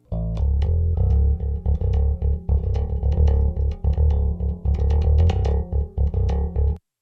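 A thick electronic bass line plays a repeating pattern of short punchy notes with a bright upper layer, then stops abruptly near the end.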